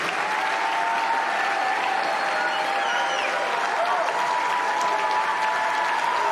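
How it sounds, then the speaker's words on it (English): Steady crowd applause with scattered cheering fills the air at a political event about the shutdown of the Department of Education, a dense continuous patter with voices mixed in throughout. "People are cheering this decision"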